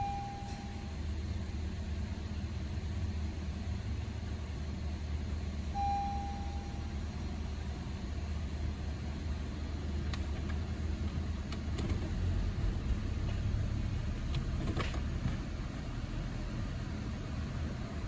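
A 2013 Honda Civic with a rough idle that stalls at idle runs steadily, a low constant engine hum with faint background noise and a few brief clicks, no voices.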